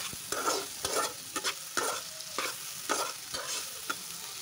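Potatoes and tomatoes frying in a pan are stirred in repeated scraping strokes roughly every half second, with a steady sizzle underneath, close and fairly quiet, no talking.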